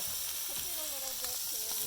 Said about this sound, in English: So that was a little oil and water mixture. Look at that. It's got a good sizzle to it.